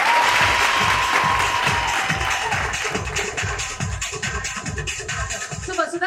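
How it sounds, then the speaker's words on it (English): Audience applause for author Vasudha Sehgal at a book talk, steady dense clapping with some crowd noise that gradually thins toward the end. "do you guys want to start clapping for her?"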